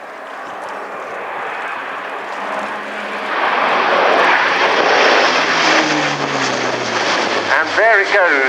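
An Airbus A400M military transport aircraft flies over at an airshow, its turboprop roar swelling loud and close as it pitches up into a climb, with shifting propeller tones and a narrator speaking over it.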